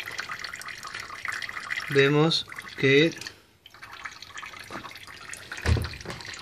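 A thin trickle of tap water falls steadily in a static electricity demonstration with a rubbed ruler held near the stream, with a person speaking over the soft running water.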